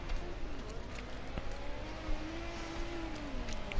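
Ford Sierra Cosworth race car engine lapping Brands Hatch Indy circuit in a Group A race, a steady distant drone with a slowly rising pitch as it passes, under a continuous wash of track noise.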